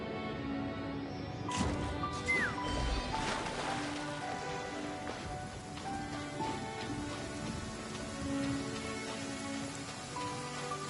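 Steady rain falling in the Genshin Impact video game, a dense continuous patter with a few brighter splashes and game sound effects mixed in, no voices.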